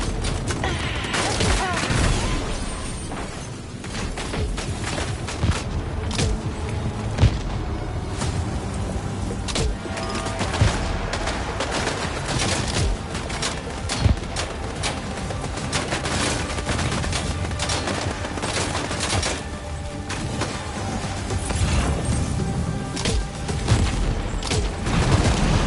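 Continuous gunfire and combat noise from the video game Death Stranding 2, dense crackling shots and impacts running throughout at a steady loud level with a few sharper bursts.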